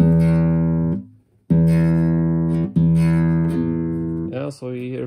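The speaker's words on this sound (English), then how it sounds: "the rattling sound, which we have here." A string rattling on a used guitar: sustained plucked notes ring out clearly, with a buzzing rattle creeping in as the notes go higher, loud and close.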